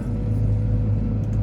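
A farm telehandler drives over broken tarmac pieces in a yard, its engine giving a steady, loud, close diesel rumble with a constant low hum and no clear crunching above it.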